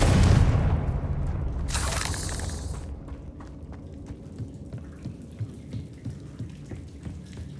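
Confringo spell in Hogwarts Legacy erupting as a deep booming blast with a bright crackling burst, then a low rumbling tail fading into scattered small ticks and pops.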